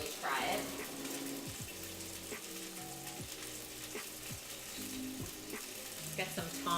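Chicken frying in a pan, giving a steady close sizzle that runs throughout, with occasional stirring and utensil clinks.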